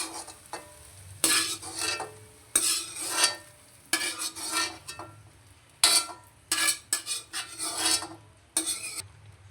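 Stir-fried carrots and eggs being stirred in a pan, rhythmic scraping strokes roughly every second over a soft sizzle, close and alone with no talking.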